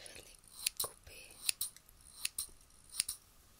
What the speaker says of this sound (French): j'ai mes petits ciseaux ici et je vais les couper.